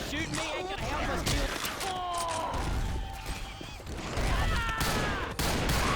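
Sustained bursts of gunfire mowing down zombies in modded Left 4 Dead 2 with a US Ranger weapon, loud and continuous under shouting voices, with scattered impacts and crashes.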